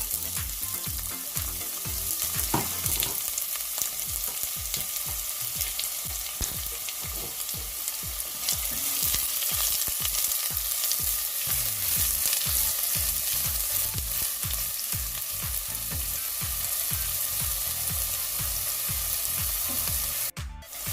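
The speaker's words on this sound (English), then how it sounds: "As soon as the oil gets hot, I'm gonna add chopped onion," Chopped onion fries in hot olive oil in a pan with a constant bright sizzle, overlaid by rhythmic scraping and stirring strokes. The sound is close and fairly loud, with no talking.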